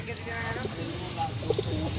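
Pigeons coo softly at close range at a pigeon market in Dankuni, a few low throaty calls rising under steady conversation nearby.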